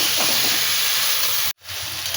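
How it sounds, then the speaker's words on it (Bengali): Boiled taro frying and stirred in a pan with cumin powder, a loud, continuous sizzle with scraping stirs, briefly cut off near the end before resuming. "এবারে দিয়ে দিলাম এই কচুগুলো, যেগুলো সিদ্ধ করেছিলাম। এবারে ভালো করে নেড়ে চেড়ে,"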